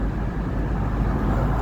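A car speeds past on an open road, heard from inside a parked vehicle with its windows rolled down; a steady broadband roadway rumble holds for under two seconds without any clear rise or fall.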